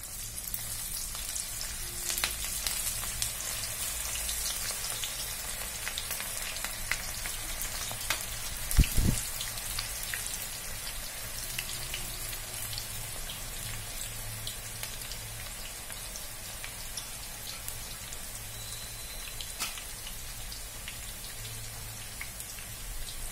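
Wheat flour pakodi deep frying in a pan of hot oil, a soft continuous bubbling sizzle with fine crackles throughout, fairly quiet and steady with one brief louder disturbance partway through.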